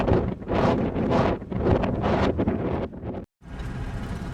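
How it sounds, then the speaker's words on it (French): Strong gusting wind buffets the microphone in loud, uneven surges under a grey sky on a Mongolian steppe, with a brief dropout near the end before the roar resumes. "elles résistent au vent violent qui souffle par rafales"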